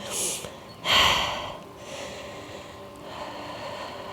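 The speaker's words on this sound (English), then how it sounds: "Let's do a few deep breaths here" Close, audible breaths during a yoga class: a sharp inhale, a louder rushing exhale, then softer airy breathing tapering off, with a faint hum beneath.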